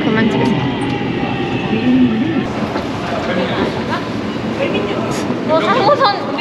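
Interior of a moving Daegu subway train: a steady rumble of wheels and carriage noise, with people talking close by throughout.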